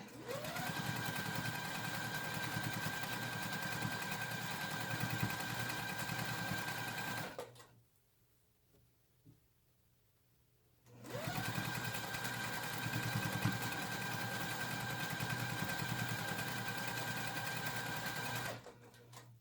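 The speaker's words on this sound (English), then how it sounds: "I'm going to use a 1/4 inch on my sewing machine" A sewing machine stitches a quarter-inch seam, running steadily at a fast, even hum, pausing briefly for a few seconds of near-silence, then resuming at the same pace.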